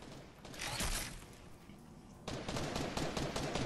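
Gunfire in the video game Fortnite rattles in dense bursts of rapid shots, a sustained volley followed by a brief lull and another long burst, moderately loud with no voices.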